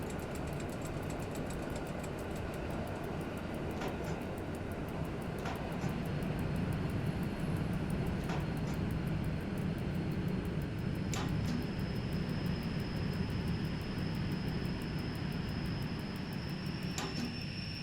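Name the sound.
train air compressor running, from video game Simrail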